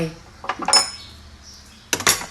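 A metal spoon scooping collagen powder into coffee: two short bursts of bright clinks and scrapes separated by a quiet gap, close by.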